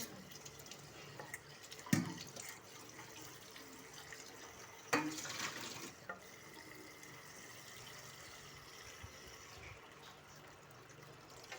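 Tap water running to rinse and fill a pet dog's dusty water bowl in a home. Faint, quiet splashing comes in two short bursts, the second lasting a few seconds, then fades to a low trickle.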